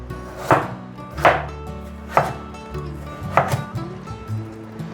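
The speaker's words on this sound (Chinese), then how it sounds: "先对半切，把红萝卜切片" Peeled carrot halved and cut into slices with a knife, four sharp chops on a cutting board spaced about a second apart, close and clear, with no talking.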